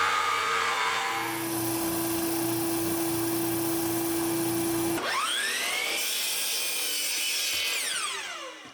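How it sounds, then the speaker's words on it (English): A jigsaw with a fresh blade cuts metal for a vise's main jaw plate, producing a loud, continuous high-pitched whine with a steady drone. Partway through the pitch shifts and sweeps as the motor changes speed, then the sound fades at the end. "the jigsaw action goes a lot faster when you take out the old worn out blade and replace it with"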